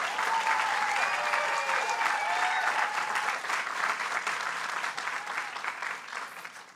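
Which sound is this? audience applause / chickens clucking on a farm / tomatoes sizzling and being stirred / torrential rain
audience applause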